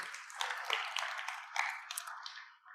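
Applause from an audience at a community celebration event for a charity society, a steady wash of clapping across the whole stretch, moderately close and fairly quiet, with no talk over it.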